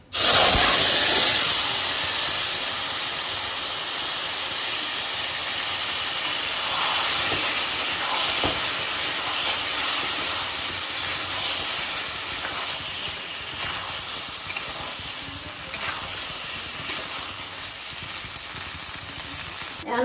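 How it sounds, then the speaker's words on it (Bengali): Singi fish with cumin and dried red chillies frying in a hot pan, a loud steady hissing sizzle running continuously throughout with small crackles, no talking. "এখন মাছটা আমি দিয়ে দেবো"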